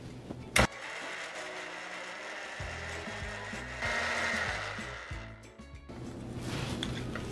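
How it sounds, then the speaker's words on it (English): A blender whirs through an orange or peach mint iced tea mixture, a sharp click followed by a sustained motor roar that shifts in pitch and load as it runs, close and loud with no talking. "I'm gonna blend it real well."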